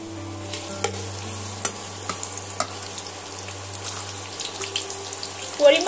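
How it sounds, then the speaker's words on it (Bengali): Sliced onions frying in hot oil in a wok for birista, for an aloo dum biryani; a steady low sizzle with light stirring clicks and scrapes throughout, no talking. "প্রথমে আমি এই পেঁয়াজের বেরেস্তাটা বানিয়ে নেব"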